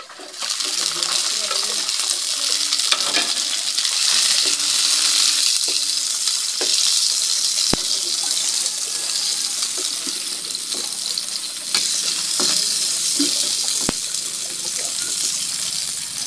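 Tomatoes dropped into onion and garlic sautéing in a pan for mung bean stew with anchovies, bringing a loud, steady sizzle with scattered clinks and stirring scrapes close by.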